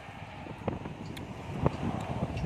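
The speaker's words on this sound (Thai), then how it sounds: "ลมเย็นมาก" Wind blows outdoors at a countryside cafe with open pavilions, a low, gusty rumble against the microphone with occasional faint clicks and rustles.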